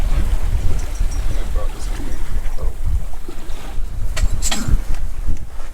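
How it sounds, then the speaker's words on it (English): A sailboat under sail with the engine off, crossing open ocean toward the Caribbean: a steady, loud rush of wind buffeting the microphone and water washing along the hull, with a few faint creaks and knocks and no clear voices. "Just like that, we are sailing"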